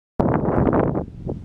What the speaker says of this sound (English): It's going to be a little windy, so I won't be able to talk much here